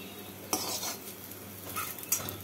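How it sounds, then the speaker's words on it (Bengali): Fried bitter gourds are lifted from a hot pan with a metal utensil, giving scraping clinks against the pan over a soft sizzle of oil, with a few louder scrapes and no talk. "এবার করলাগুলোকে তুলে রাখছি"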